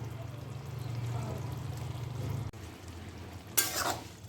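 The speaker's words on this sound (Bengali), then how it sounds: "ভালো করে কষিয়ে নিচ্ছি" Young jackfruit curry sautéed in ghee with garam masala, a steady close sizzle and scraping stir in the pan, then a brief louder burst of sizzling near the end.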